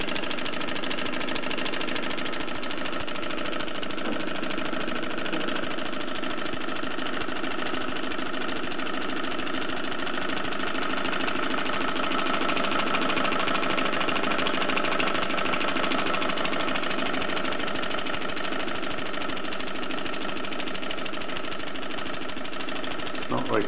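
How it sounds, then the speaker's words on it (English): A Bowman M167 stationary engine drives a saw table, running steadily and loudly for the whole stretch with an even, continuous drone and a faint knocking pulse. "Quite a simple little engine."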